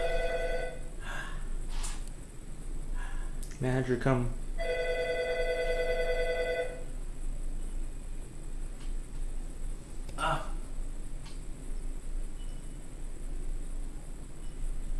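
A telephone rings from inside a building late at night, two bursts of electronic ringing heard through a door, with someone speaking briefly between them and quiet background hiss.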